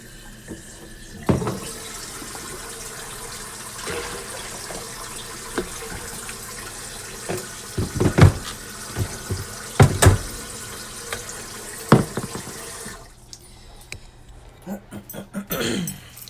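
Tap water runs steadily into a kettle or pot at home, filling it to heat for tea, with a broad continuous rush, clinks and knocks of handling, and a brief dog whimper mixed in; the flow stops near the end.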